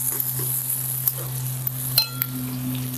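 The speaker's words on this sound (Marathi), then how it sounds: "लसूण सुद्धा आपल्याला चांगलं असं परतून घेऊया लसणाचा कच्चेपणा जाऊपर्यंत." Finely chopped garlic sizzles steadily in hot oil in a pan with onion, stirred now and then with a few scraping knocks, fairly loud and close, with no voices.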